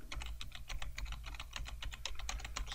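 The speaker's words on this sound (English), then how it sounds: "Smashing the keyboard here." Rapid clattering keystrokes on a computer keyboard, a dense, fast run of close, crisp clicks with no talk.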